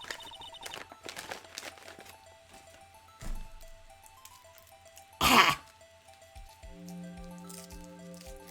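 A catboy vtuber imitates a cat coughing up a hairball, making short throaty hacks, a squishy wet gag and a burst of harsh retching near the mic, then a quieter drawn-out tone.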